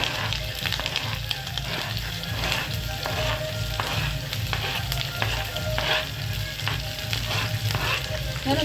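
Sabudana sizzles steadily in a hot pan with green chillies, an even crackling fry punctuated by scraping stirs, close and continuous, with no talking.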